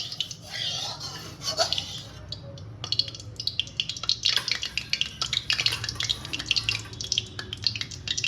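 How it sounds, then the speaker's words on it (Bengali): A spoon or spatula stirs a little oil around a kadai before eggs go in for fried rice, giving close, irregular metallic scrapes and clicks over a faint sizzling hiss. "এবার কড়াইটাকে একটুখানি তেলের সাথে একটু নেড়ে নিতে হবে"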